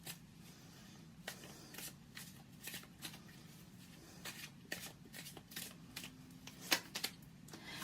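Tarot cards being shuffled and drawn, giving a series of soft, quick riffling and slapping bursts at an irregular rhythm, close and fairly quiet, with no talk over them.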